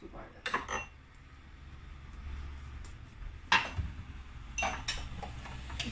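A spoon is fetched from a kitchen, with a few bright metallic clinks and rattles of cutlery and dishes in separate bursts over quiet room noise.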